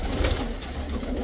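Pigeons cooing in a pigeon loft, soft throaty coos close by over a steady low rumble, with no voices.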